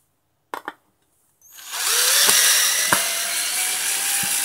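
Hand drill run in reverse to back out a screw: a couple of clicks, then the motor whirs up and runs steadily for about three seconds, close and loud, with occasional knocks as the bit engages.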